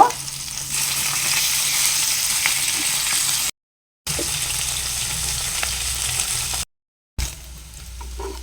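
Pabda fish fry in hot oil in a pan, giving a steady, close sizzle and crackle that runs continuously, broken by two brief silent cuts, with no voices.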